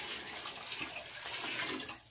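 Water poured from pitchers into a KUPPET mini portable washing machine onto drained clothes, a steady splashing gush that runs continuously for about two seconds, fairly faint and close, with no talk.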